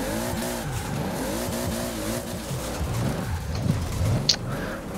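A car in a racing video game, after the handbrake is pulled, slides with a warbling tire squeal over steady engine drone, wavering continuously and closing with a brief brighter screech.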